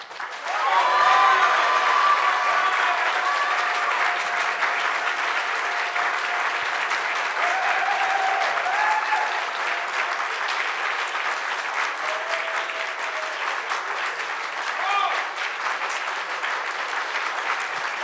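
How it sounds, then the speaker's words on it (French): Sustained audience applause at an entrepreneurship awards event, a dense, even wash of many hands clapping that holds steady for about eighteen seconds with no talk over it. "On va applaudir très fort le projet d'Arganic Elixir de Lina."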